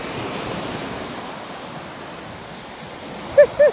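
Ocean waves wash onto a beach at sunrise as a steady, broad surf roar with light wind, ending with two brief louder tonal sounds.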